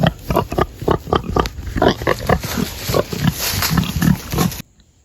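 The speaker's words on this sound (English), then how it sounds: "You can see that bit of chewing and gnawing helps break down the logs." Farm pigs chewing and gnawing on logs, a close series of rough crunching, snuffling bursts in an irregular rhythm, some louder than others, ending abruptly in near silence.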